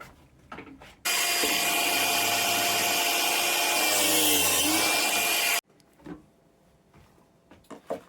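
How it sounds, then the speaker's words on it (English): A biscuit joiner cuts into clamped boards while a work-from-home desk is being built: one loud, steady high-pitched motor whine with the blade biting in, lasting about four and a half seconds between quieter workshop handling noises. "And I'm going to make my biscuit joiner cuts."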